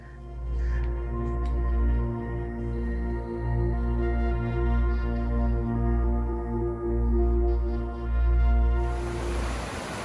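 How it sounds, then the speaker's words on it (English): Rushing river crashing through a slot canyon in Zion National Park, a steady, loud broadband roar of water that fills the whole stretch without letup. "the noise of the crashing river behind me"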